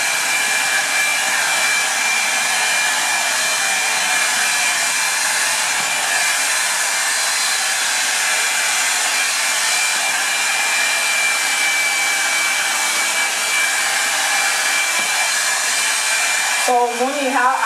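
A Revlon Salon One Step hair dryer volumizer runs close up with a steady, loud whirring blow for the whole stretch, then a brief bump of handling noise near the end.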